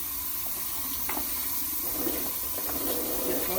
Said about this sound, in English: I just rinse them out really well